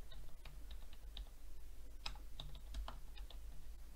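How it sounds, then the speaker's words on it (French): Soft, irregular keystrokes clatter on a computer keyboard over a low hum, close and quiet, with no talking. "Je valide en appuyant sur la touche Entrée de mon clavier."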